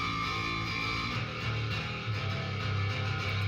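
A sustained, full low-end bass guitar tone through a stereo room cabinet, with droning overtones playing steadily, a slightly roomy, spread character and no voices.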